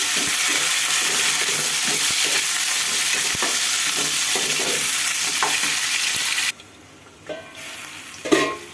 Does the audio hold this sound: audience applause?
no